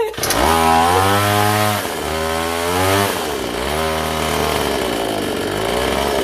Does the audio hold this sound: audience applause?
no